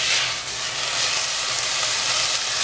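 Garlic cloves sizzling in oil in a pan while cooking tomato basil soup, a steady bright hiss that holds constant and close throughout, with no talking.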